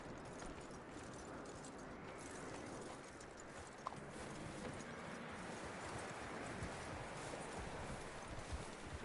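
Faint, steady clip-clop of horse hooves on soft ground in Red Dead Redemption 2, under a wash of rustling ambient noise.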